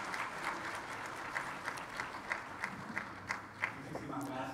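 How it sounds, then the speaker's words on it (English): Steady applause from a conference audience for a panel of speakers on food security and sustainable energy, a soft, continuous patter of many hands with a few sharper individual claps standing out, heard at a distance and fairly quiet. "I would ask you for a big round of applause for our panelists"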